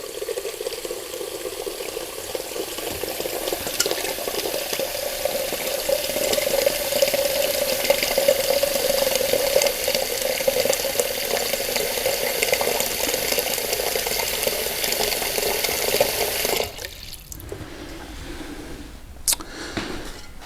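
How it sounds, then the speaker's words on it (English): Tap water runs steadily into a bowl with a continuous splashing rush that stops abruptly near the end, leaving a few faint clinks. "And then I just put some cold water in the bowl."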